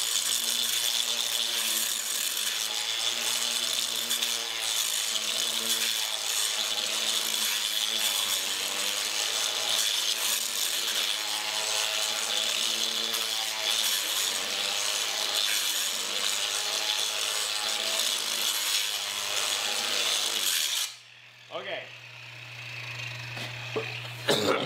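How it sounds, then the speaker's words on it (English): An angle grinder with a grinding disc grinds the bevel on a knife blade in a steady, loud, continuous rasp for about twenty seconds, then cuts off abruptly, leaving a brief hum and a few clicks. "We got a grinding disc on."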